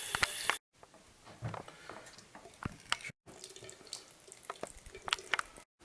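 Hot water runs from a tap while a household water heater is being drained: a steady, close rushing flow with a few brief cutoffs, and no talking.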